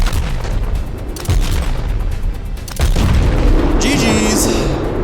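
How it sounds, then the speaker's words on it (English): Ship cannons fire a volley against a boss in a video game, a few heavy booming blasts spread over several seconds, loud and close, with a higher ringing burst near the end. "Let fly the volley."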